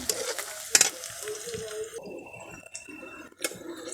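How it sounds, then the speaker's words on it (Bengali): Onions fry until brown in a pan, a close sizzle with sharp pops and stirring clatter that thins out midway, then a few louder crackles. "পেঁয়াজটা আমার বাদামি করে ভাজা হয়ে গেছে"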